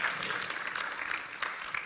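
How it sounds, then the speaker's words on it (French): Short stretch of audience applause closing a French panel on agricultural generational renewal, an even patter of many hands heard from across the room. "je pense qu'on peut les applaudir"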